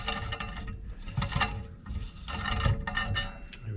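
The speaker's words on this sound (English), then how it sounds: "I'm going to tap this plate here just to make sure I can put the bolt in all the way as well" A tap cuts threads into a scrap metal plate for a winch hitch mount, producing rhythmic grinding, rasping strokes in bursts with short pauses between turns, close and moderately loud.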